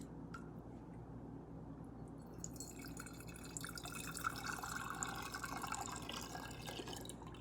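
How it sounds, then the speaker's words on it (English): Homemade chicken bone broth poured through a funnel and small sieve into bottles, a soft steady trickle and dripping that grows fuller and brighter midway as the liquid fills, close and without speech. "And then I just fill my bottles."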